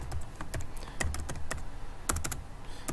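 Rapid keystrokes on a computer keyboard while entering an assignment title in Canvas, a steady run of close, clicky taps with brief pauses, no voices.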